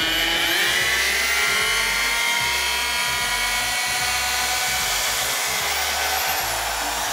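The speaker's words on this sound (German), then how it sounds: "Dann kann ich einfach mit dem Akkuschrauber schrauben wir sie wieder raus." A cordless drill driver backs a screw out, its whining motor running loud and steady throughout with a rough, buzzing drive underneath and no pauses.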